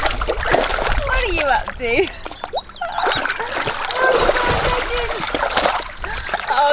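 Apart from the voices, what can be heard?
pony splashing water in a paddling pool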